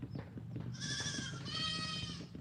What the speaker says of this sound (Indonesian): Ada suara embe teman-teman, ada suara embe